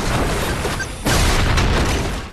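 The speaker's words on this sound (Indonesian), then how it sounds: "bom di gedung pun meledak" A bomb blows up inside a building in an action film, a sudden loud booming burst that cuts in halfway and sustains a heavy rumbling roar.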